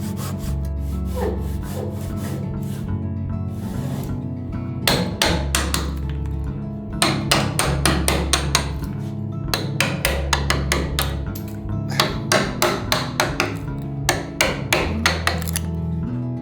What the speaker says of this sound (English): I will hammer the floorboard to compress it